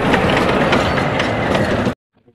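A heavy train at the Paderu Sri Modha Kondamma Ammavaru festival fair runs along curving rails in a loud, dense rumble with faint clatter, then cuts off abruptly into near silence.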